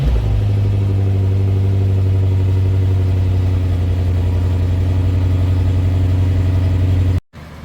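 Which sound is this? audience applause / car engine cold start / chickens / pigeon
car engine cold start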